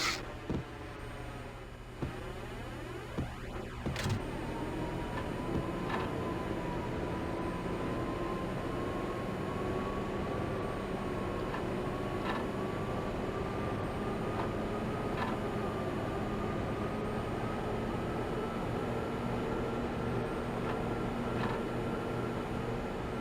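A train runs steadily in the Max Payne video game, a continuous low rumble with a slowly rising whine, and no voices.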